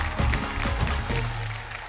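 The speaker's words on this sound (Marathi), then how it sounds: "एकदा जोरदार टाळ्या होऊन जाऊ दे." Studio audience applause on a Marathi TV game show, a steady wash of clapping with a low hum underneath, moderately loud and continuous, no talk.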